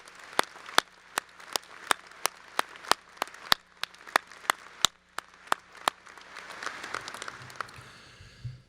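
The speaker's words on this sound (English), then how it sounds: "A round of applause for the class of 2027." At a veterinary white coat ceremony, one nearby person claps in a sharp, steady rhythm over faint, diffuse applause from the crowd, which swells slightly toward the end.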